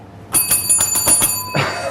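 A bright bell rings in a quick run of about six dings, close and fairly loud, followed by a brief rustling noise.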